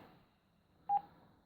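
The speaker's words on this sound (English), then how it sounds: "And then this is the keypad tones" A single short electronic beep from the keypad of an AEG Telecar D901 GSM transportable phone sounds once, clear but quiet, over faint background hiss.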